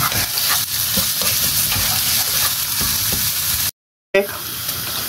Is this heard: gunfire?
no